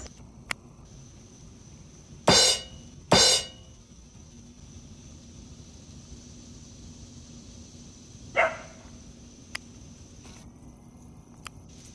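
Dogs bark at a squirrel outdoors in New York, giving a few short, loud bursts followed by one weaker bark later, over faint insect chirring and a quiet background.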